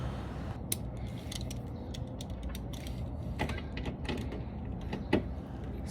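A socket prying a plastic push clip out of a Subaru Impreza mud flap gives scattered faint creaks and clicks over a steady low background, with one sharper pop near the end.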